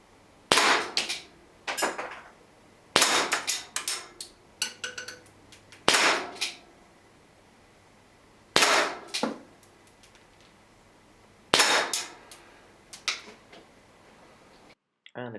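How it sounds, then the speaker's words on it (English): Six sharp shots from an air pistol firing standard Webley shells, loud and close, spaced a couple of seconds apart with short metallic clicks of handling between them and no talking. "First up, 6 shots with the standard shells."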